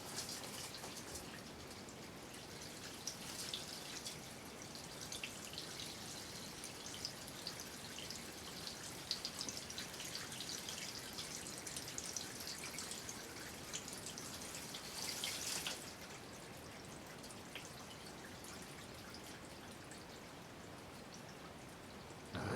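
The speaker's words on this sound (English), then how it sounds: "now there's the water, so somebody upstairs has gone to the bathroom or something" Water draining down a pipe from an upstairs bathroom in an old tattoo shop cellar, a steady hissing trickle with scattered drips that continues throughout and swells briefly near the middle.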